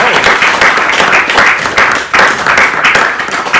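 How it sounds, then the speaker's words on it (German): Audience applause at a Berlin literary salon event, a steady sustained round of clapping close and loud, with no talk over it. "Ich brauche nochmal einen Applaus"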